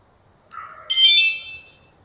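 A short electronic motorcycle anti-theft alarm chirps twice, a lower tone followed by a higher, longer beep, against near silence.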